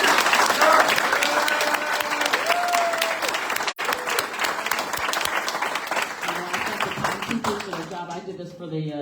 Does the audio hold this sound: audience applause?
yes